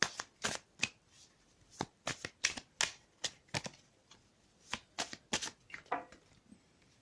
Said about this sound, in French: Je vais tirer une seconde carte pour le domaine des énergies générales